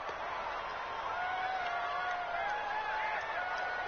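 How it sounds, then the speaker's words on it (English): Steady roar of a domed-stadium crowd in a football video game, a continuous distant wash of cheering and murmur holding at an even level throughout. "The crowd here in the Dome making things difficult."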